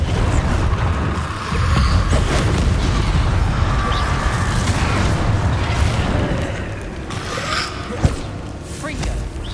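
The Expelliarmus spell in Hogwarts Legacy fires with a heavy, booming blast, followed by sustained rumbling effects and a sharp impact later on.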